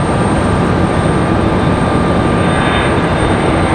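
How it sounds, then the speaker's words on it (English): Steady, loud broadband jet roar from a Delta CRJ regional jet at Raleigh-Durham International Airport, a continuous rushing drone that holds evenly throughout without a break. "So we got this Delta CRJ"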